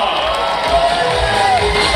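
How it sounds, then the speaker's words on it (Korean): A large crowd at the opening ceremony of a provincial sports festival cheers and shouts in welcome as an athletes' delegation enters, a continuous loud roar of voices with scattered whoops. "여러분, 진천군 선수단에게 큰 환영의 박수를 부탁합니다."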